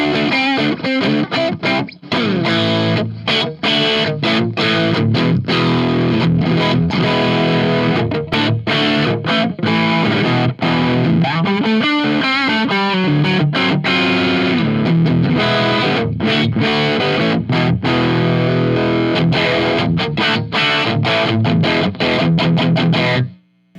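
Loud, gritty high-gain electric guitar, a Telecaster single coil pickup through a Bugera JCM 900 clone amp, playing fast riffs and chords with a sharp, biting edge, alone and continuous.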